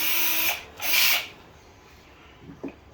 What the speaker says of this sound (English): we're going to take 1/8" drill bit in our drill